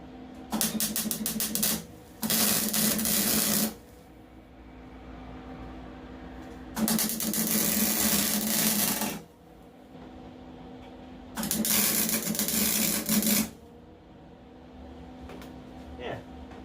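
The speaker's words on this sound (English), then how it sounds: "I'm just going to weld it" MIG welding on a hot rod tractor, heard as three crackling, buzzing bursts of a few seconds each with quieter pauses between, close by over a low background hum.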